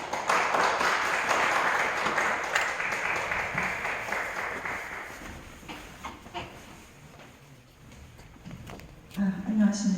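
An audience at a church lecture on biblical peace applauds steadily, loud at first and gradually thinning out, before a voice begins speaking near the end.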